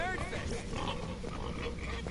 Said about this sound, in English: I can hear some oinkers